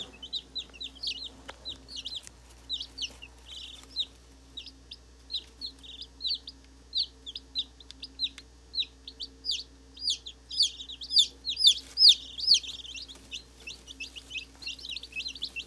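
Baby chicks in a brooder peep in quick, high-pitched bursts that grow busier and louder toward the end, over a low steady hum.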